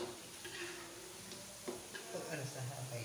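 Sugar melting in a pan for fried bananas, with a soft sizzle under intermittent stirring scrapes; a faint murmur of voices in the background.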